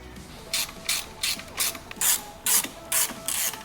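A hand ratchet clicks in rapid bursts while the radiator support goes onto a Ford Focus RS, about eight crisp, close, evenly spaced pulls with short pauses between them.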